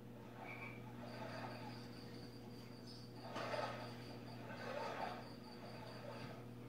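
Forest ambience setting on a Current USA Serene LED aquarium light plays steady frog croaks and insect chirps over a constant electronic hum, with two louder swells of rustling midway.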